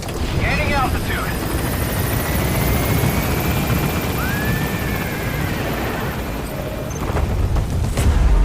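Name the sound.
helicopter gaining altitude, from video game Metal Gear Solid V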